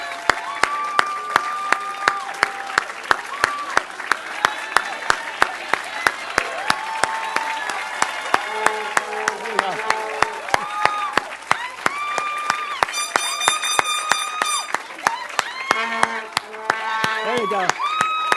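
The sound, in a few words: audience applause at hooding ceremony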